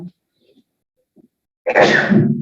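A single loud, close sneeze bursts out near the end after almost two seconds of near silence with a few faint sounds, during a Spanish-language math lecture on integrals.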